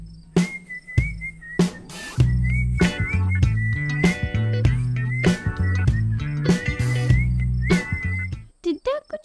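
A bright, warbling whistled melody runs over a bouncy instrumental backing track, with notes sliding and trilling in a cheerful, steady rhythm.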